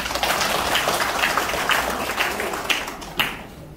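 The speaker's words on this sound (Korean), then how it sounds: "큰 박수로 한번 쳐주시죠." Congregation applauding during a church worship service, a steady patter of many hands filling the room, with a couple of sharper claps near the end.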